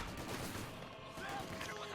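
Vickers machine gun fire in a Company of Heroes 2 battle, a dense continuous stream of gunfire and explosions mixed with battle noise, loud throughout with a voice talking over it.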